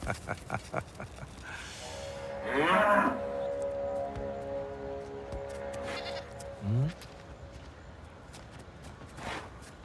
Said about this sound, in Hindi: वहाँ एक बेचारी बकरी फंसी हुई है